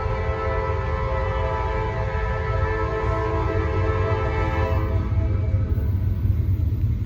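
A CSX freight train rolls by on a Norfolk Southern line, a steady loud low rumble with sustained tonal drone layered over it, continuous for the whole stretch with no voices.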